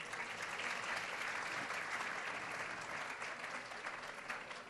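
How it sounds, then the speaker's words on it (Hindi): Steady, dense applause from an audience at a Hindi poetry recital (kavi sammelan), sustained and fairly even for the whole stretch with no voices over it. "एक बार तालियां बजा दीजिए।"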